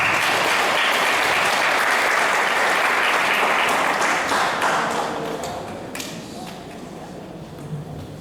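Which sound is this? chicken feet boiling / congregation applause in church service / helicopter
congregation applause in church service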